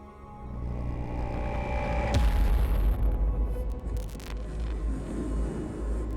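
A weapon fires a Paradox Core in the video game Sunrider 4 with a sharp crack, followed by a deep booming explosion that rumbles on over a low droning hum.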